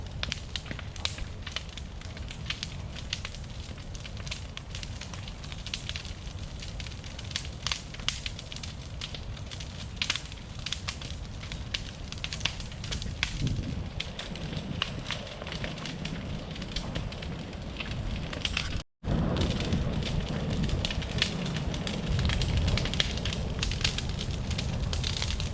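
House fire burning down a home, a loud continuous roar with dense crackling and popping, steady throughout apart from one brief dropout near the end.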